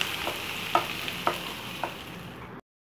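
Onions with ginger and garlic sauté in a pan for pepper chicken, a steady sizzle broken by a few sharp scrapes of a spoon against the metal, close and moderately loud with no talking.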